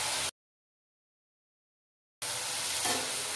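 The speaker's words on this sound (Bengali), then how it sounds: "আঁচটা বাড়িয়ে একটু নাড়িয়ে নিচ্ছি" Frying potatoes and ridge gourd sizzle and scrape as they are stirred in a hot pan, a steady soft crackle broken by a sudden gap of silence, then resuming with a spatula scrape near the end.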